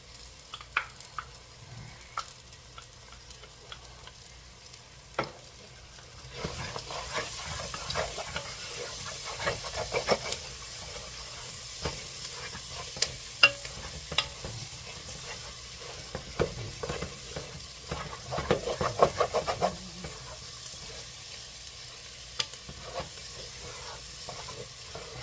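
Garlic for gumbo hisses and sizzles in hot fat while a utensil stirs it, starting quiet, then swelling into a steady louder frying crackle with scattered scraping clicks and pops, close up and with no talking.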